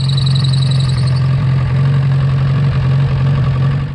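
An old car engine running at a steady idle, a loud, close, even rumble with a faint ticking rhythm and no voices.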